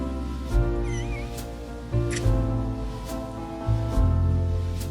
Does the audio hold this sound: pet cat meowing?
yes